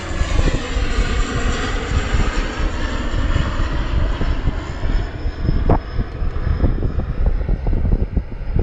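A steady, loud aircraft engine roar fills the whole stretch, holding level with a rough, broadband rumble and no pauses.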